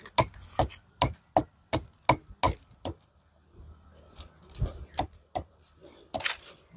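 An agarwood tree trunk being cut by hand, with a run of sharp, evenly spaced blade strikes close by, then a looser, irregular burst of chops.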